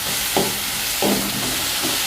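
Tomato stir-fried with onions in a hot pan makes a steady, dense sizzle close by, with a few brief scraping strokes from the spatula.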